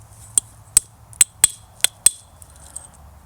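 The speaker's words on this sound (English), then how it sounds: "I'm just going to continue striking it with the antler." An antler billet strikes a stone arrowhead being flintknapped into a Hohokam-style point, six or seven sharp, clicking taps spaced irregularly, each ringing briefly, close and alone.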